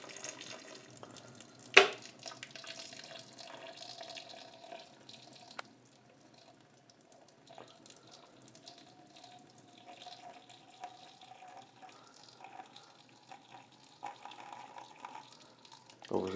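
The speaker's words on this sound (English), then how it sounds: "So I'm just going to pour this water on it, through there." Boiled water from a kettle is poured over the thermostat of an overheating Aprilia RS 125 motorcycle, a soft trickling with drips and a sharp clink near the start, quiet and close.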